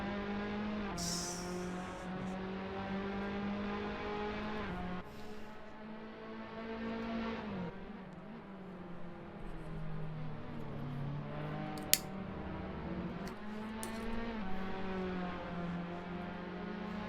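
Tatuus race car engines at Imola in a sim racing game drone steadily at high revs, pitch rising and dipping through gear changes and corners, with a brief tire squeal and a sharp click.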